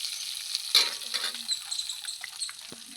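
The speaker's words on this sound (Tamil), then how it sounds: "இஞ்சி பூண்டு இடிச்சு வச்சதை போட்டுக்கலாம். நல்லா வதக்கிக்கலாம்." Crushed ginger and garlic sauté in a hot pan for a crab rasam, giving a steady close sizzle with a few scraping stirs and utensil taps.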